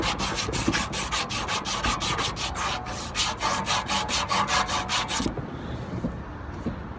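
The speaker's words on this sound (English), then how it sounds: "Probably the most important step there is sanding the shaft properly." Close, rhythmic scratchy strokes of sandpaper worked back and forth on a condenser fan motor shaft, quick regular passes for about five seconds before stopping into quieter room noise.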